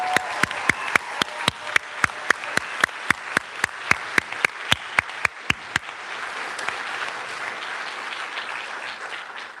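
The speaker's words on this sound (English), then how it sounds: "please join me in a very well-earned round of applause for our latest graduates" An audience at the 2021 Community College of the Air Force graduation applauds the new graduates, opening over a steady run of regularly spaced sharp beats, then settling into a dense, loud wash of clapping that carries on alone.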